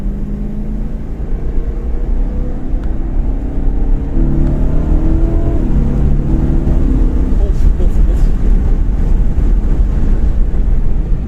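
A 1992 BMW M3 engine droning steadily from inside the cabin, its pitch climbing as it accelerates, with a voice speaking over the rumble.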